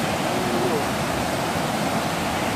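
A river by its bank in Sidomulyo, North Aceh, rushes in a steady, loud, broadband roar that fills the scene without pause, close to the water.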